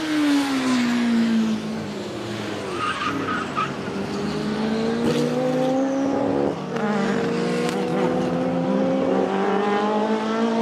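A Porsche 935 race car screams at speed, its engine note rising and falling through gear changes, loud and close with a steady roar throughout.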